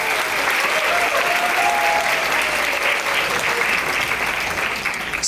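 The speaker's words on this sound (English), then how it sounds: "Please give them a round of applause." Wedding reception guests applaud the couple's siblings with sustained, dense clapping from a large crowd that holds steady the whole time before easing slightly at the end.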